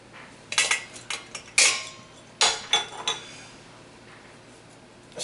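Sifting flour for a sweet potato pie with a metal sifter in a kitchen: a few sharp clinks and taps come in clusters over the first three seconds, then a quiet stretch with faint room noise.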